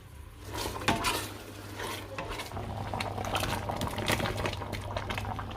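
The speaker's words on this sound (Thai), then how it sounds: "เดี๋ยวจะเอาไก่ ลงไปผัดนะคะ" Steady pan cooking noise as chicken is stir-fried into green curry simmered with coconut milk, with scraping and clinking of a utensil against the pan, a continuous bubbling sizzle underneath, moderately close.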